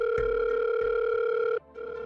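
A landline telephone gives off a steady, close electronic ringing tone that holds for over a second, breaks off briefly, then resumes.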